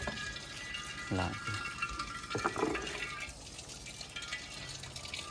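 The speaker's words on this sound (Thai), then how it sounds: "กำลังล้างหม้ออยู่นี่" A cooking pot is washed with water in a rural Lao village home. Splashing, sloshing water and a few knocks of the pot come at a moderate distance over steady background noise, with faint voices now and then.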